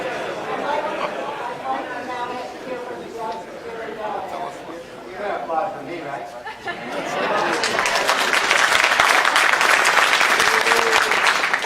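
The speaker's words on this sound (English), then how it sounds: "You're going to applaud for me, right?" Applause from a town-hall audience at a Democratic meeting on guns, rising after several seconds of a person talking and then swelling into a dense, loud spread of clapping hands.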